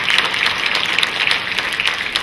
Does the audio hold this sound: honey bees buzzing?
no